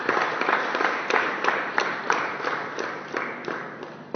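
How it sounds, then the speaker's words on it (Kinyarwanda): A church congregation applauds God at the close of a service, a steady broadband wash of many hands clapping, fairly close and sustained for a few seconds, with occasional sharper individual claps standing out. "Reka dukomere Imana yacu amashyi"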